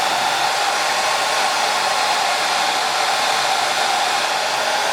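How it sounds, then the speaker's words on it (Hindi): A blow dryer blasts hot air over pieces of butter to melt them, a loud steady hissing roar held close and constant throughout, with no voices. "फिर मैंने इसको ब्लो ड्रायर से गर्म हवा दे के मेल्ट किया"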